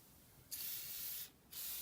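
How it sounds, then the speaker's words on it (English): Cleaner sprayed onto a dusty car dashboard in two bursts, a longer hiss followed by a shorter one, close and crisp against a quiet background. "Let me spray it right there."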